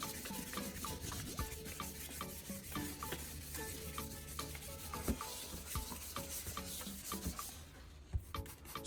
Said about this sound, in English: I started sanding with 1200 grit sandpaper.